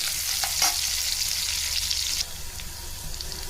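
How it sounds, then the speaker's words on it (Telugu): Onions sizzle and fry steadily in a pan for chicken pulao, a constant close hiss with a couple of brief stirring clinks, no voices. "ఆనియన్స్ బ్రౌన్ కలర్ వచ్చేంత వరకు బాగా వేగనివ్వాలండి."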